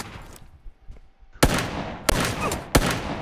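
Pistol shots in the PUBG battle royale game, three sharp loud cracks about two-thirds of a second apart, preceded by quieter rustling and movement sounds.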